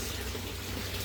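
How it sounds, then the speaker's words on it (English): Pumped water flowing out during a pond-style water change, a continuous close gushing hiss with a low steady pump hum underneath, brief and fairly quiet. "what I do is I let the regular pumps pump the water into the flat box"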